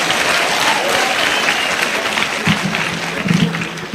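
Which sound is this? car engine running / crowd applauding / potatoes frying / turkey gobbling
crowd applauding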